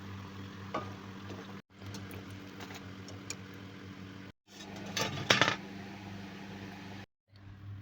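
Eggplant fritters (beguni) frying in hot oil, a soft continuous sizzle with a few sharper crackles, broken by brief silent cuts.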